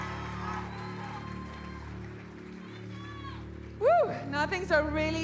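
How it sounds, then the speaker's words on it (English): Audience applause and cheering for the Miss Namibia 2019 winner at a pageant show, a broad crowd roar under music with loud voices shouting over it toward the end. "Congratulations to Johanna. Round of applause."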